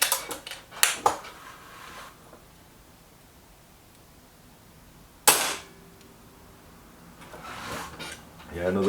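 Air rifle shots from a Kral Puncher Maxi and a Reximex Accura hit a paper target: a few sharp, close cracks at the start, one loud snap midway, then quieter handling noise, with someone talking between shots.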